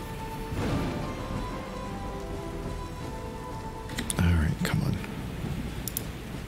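Steady rain falls in a video game, a constant soft patter spread through the whole stretch, with a brief louder rustling burst near the end and faint talk in places.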